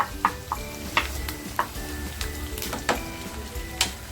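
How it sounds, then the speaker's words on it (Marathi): Onion frying in oil in a pan for paneer Hyderabadi gravy, a steady close sizzle with periodic clinks and scrapes of a spoon stirring, no voices. "त्याच तेलामध्ये कांदा टाकते आहे"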